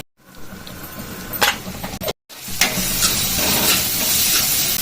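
Onions fry on low heat in a pan with spices such as cinnamon, cardamom and shahjeera, giving a steady loud sizzle with brief stirring scrapes and a short break partway through.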